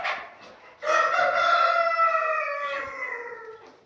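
An Anatolian village rooster crows loudly nearby, one long strained call that trails off, with faint clucking from other Anatolian village chickens before it.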